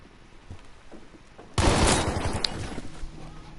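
Sudden loud burst of gunfire in Battlefield V erupting after a quiet start, followed by a sustained roar of shots and explosions that slowly tapers while staying close and dominant.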